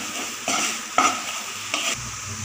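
Ground cumin and turmeric with a pinch of asafoetida being stirred in a frying pan, a steady sizzle marked by three scraping stir strokes, close and fairly loud.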